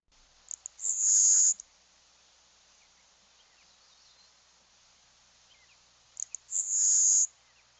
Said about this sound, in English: The LeConte sparrow does more of an insect-like harsh tick-a-ch.